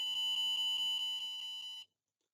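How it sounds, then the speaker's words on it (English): Buzzer triggered by tilting a tilt sensor on a Raspberry Pi Pico maker kit, a loud shrill continuous electronic tone with slight pulsing that stops abruptly after about two seconds. "if we tilt the sensor, it says tilt detected and the buzzer goes off"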